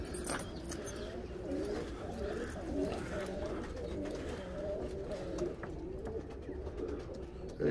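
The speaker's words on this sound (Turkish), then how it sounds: "kuşlarımız var, ballılarımız var, bozlarımız var, göklerimiz var" Domestic pigeons coo softly and repeatedly in a loft, a low throaty burbling that runs throughout at moderate distance, with faint rustling and a little background voice.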